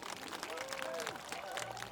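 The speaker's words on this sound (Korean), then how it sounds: "김영태 의원님에게 뜨거운 박수 다시 한번 보내드립니다" An outdoor rally crowd applauds a lawmaker at a protest over an air force fighter jet's errant bombing of homes in Pocheon. The clapping is fairly faint and steady, with a voice talking over it.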